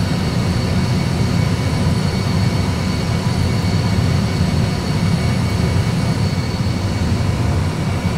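Airbus A320 engines at climb thrust after departure, heard from inside the cockpit as a steady, dense roar with a low rumble, constant and unbroken throughout.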